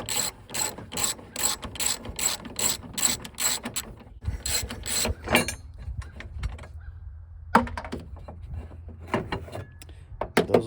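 A ratchet loosens the headlight bracket bolts on a 2003 Honda Element. The first half is rapid, loud clicking in quick bursts, followed by slower, sparser clicks, scrapes and handling noises close by.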